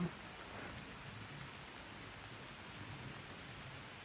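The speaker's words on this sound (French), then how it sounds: "Et je sais pas si tu vois, mais il pleut quand même fort." Heavy rain falls outdoors as a steady, even hiss of drops hitting surfaces, continuous and moderately close, with no voices.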